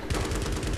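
Helicopter gunfire in the Battlefield 3 video game: a dense, rapid burst of automatic shots that stays loud and steady for just under a second, with no talk over it.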